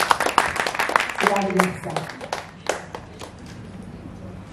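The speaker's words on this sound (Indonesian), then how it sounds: "Tepuk tangan dong buat Mbak Bella." A small group at a sharing session of former prisoners claps for a woman, quick uneven hand claps over a voice speaking throughout, fading toward the end.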